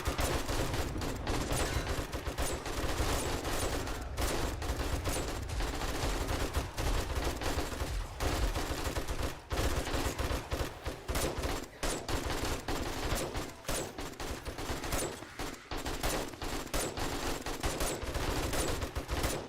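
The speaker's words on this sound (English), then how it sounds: "Cops on the ground shooting." Rapid gunfire from a firefight in the survival game 7 Days to Die, with dense, continuous bursts of shots and automatic fire crackling steadily throughout, loud and close with no talk.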